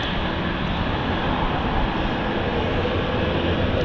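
A jet aircraft takes off from London City Airport, its engine roar loud and continuous with a broad rushing noise that stays steady throughout.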